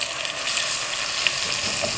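Cumin seeds and minced garlic frying in hot oil, a steady close sizzle with no talk.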